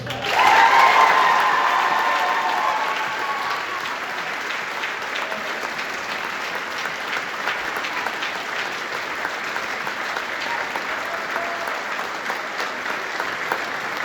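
Audience applause at a wind ensemble concert awards moment, a loud burst of clapping that quickly settles into steady, sustained applause from a large crowd, with faint cheering at the start.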